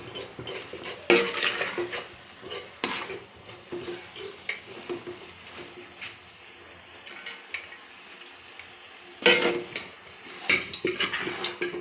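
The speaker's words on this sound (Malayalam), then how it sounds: "അത് ഇതിൽ കൂടെ ഒന്ന് ചേർത്ത് ചേർത്ത് കൊടുക്കണം ഇതൊന്ന് ഇളക്കി കൊടുക്കണം" Cooked rice is mixed into a curry in a metal pot for a Kerala koottan chor dish. A spoon scrapes and clinks in irregular bursts against the pot, with faint sizzling and quieter pauses between strokes.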